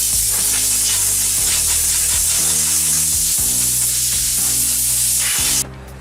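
Compressed air blasts across a cracked plastic car bumper during repair prep, a loud, continuous hiss held for over five seconds before cutting off abruptly.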